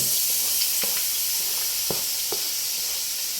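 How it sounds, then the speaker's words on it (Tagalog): Garlic and onion sizzle in hot oil in a pan, a loud steady close hiss of frying with a few soft utensil taps, no voices. "Naglagay na po tayo ng mantika at ilalagay na po natin ating rekado. Yung bawang at saka sibuyas."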